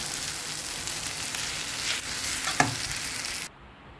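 Noodles tossed with packet spice mix in a hot pan give a loud, continuous sizzle as they are stirred, with a brief scrape near the end before the sound drops away abruptly.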